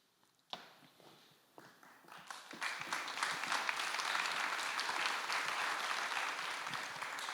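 Concert audience applause for the performers at an evening event, starting with a few scattered claps before swelling into steady, fairly distant clapping from a seated crowd that holds to the end.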